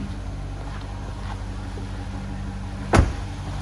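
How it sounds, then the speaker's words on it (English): A 2007 Victory Red Corvette convertible with a 6-speed sits idling with a low steady engine rumble, heard close from outside, and a sharp door-like thunk near the end. "Nice sounding car."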